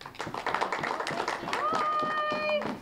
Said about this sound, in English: let's give a huge round of applause to Jenna